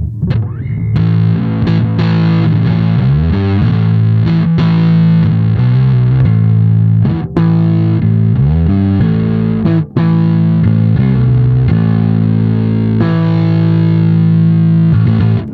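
An electric guitar played through a Nano Bass Big Muff fuzz pedal, later switched to the dry signal, plays a dense, heavily distorted riff with sustained saturated chords, loud and continuous throughout.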